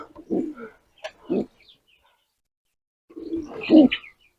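An old red-sided dove that cannot fly well coos in three separate low, throaty phrases, close by, with quiet pauses between them.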